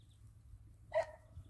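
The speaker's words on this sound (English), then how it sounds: "Get to see the puppies." Puppies at home give a single short, sharp bark about a second in, moderately close, set against a quiet low household rumble with no talking.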